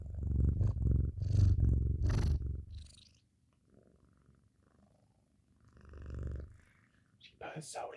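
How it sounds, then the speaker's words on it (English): A cat purrs loudly and close in rough, rhythmic rumbling bursts, fading for a few seconds before swelling again, while a person talks softly over it. "She purrs so loudly"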